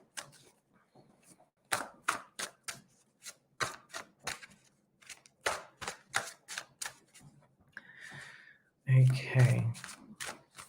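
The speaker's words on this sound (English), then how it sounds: "I'm just going to give the cards a bit of a shuffle" Tarot cards are shuffled in several quick riffling bursts, crisp flapping rattles near the microphone, followed by a short spoken word and some soft handling noise.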